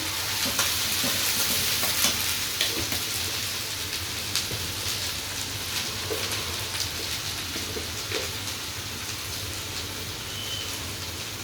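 Poa fish frying with garlic paste in a pan, a continuous dense crackling sizzle with scattered pops, fairly close and steady throughout, no speech.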